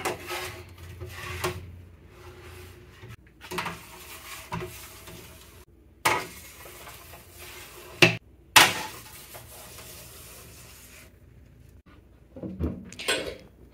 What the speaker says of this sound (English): And I'll just keep chopping, and we'll be back once I have all the bananas on the tray.